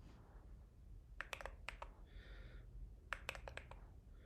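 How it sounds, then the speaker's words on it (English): Short bursts of keystrokes on a Keychron Q4 mechanical keyboard with Glorious Panda switches and simple mods, quiet and close, clicking in two quick clusters with pauses between. "My keyboard is a Keychron Q4 with glorious panda switches and 2 really simple mods."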